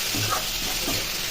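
Garlic, onion and chili hit hot oil in a pan for a prawn and kochu loti dish, making a brief, close, continuous sizzle with light stirring.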